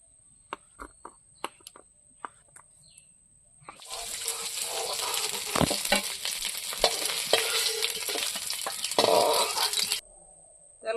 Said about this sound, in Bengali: গরম হয়ে গেছে তেজপাতাটা দিয়ে নিই